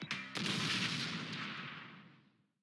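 Video-game explosion like a burst of fireworks in Danganronpa V3: a sharp initial crack followed by a loud, sustained crackling roar that slowly fades out over a couple of seconds.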